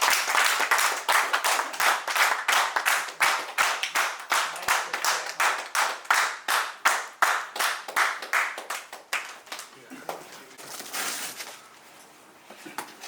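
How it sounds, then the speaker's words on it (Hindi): Guests at a college batch reunion in a Radisson Blu hotel clapping loudly in unison, a long run of rhythmic, strong synchronized claps that slows and loosens into scattered clapping before dying away. "एक बार दोबारा से जोर से ताली।"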